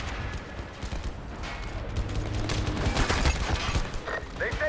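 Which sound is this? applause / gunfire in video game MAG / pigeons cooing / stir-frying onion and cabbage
gunfire in video game MAG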